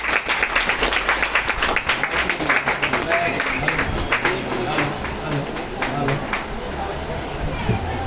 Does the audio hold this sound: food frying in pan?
no